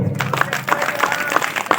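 An audience bursts into a short round of applause, with dense, close clapping that stays steady for a couple of seconds.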